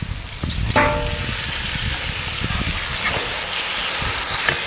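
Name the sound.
country chicken meat frying in spiced masala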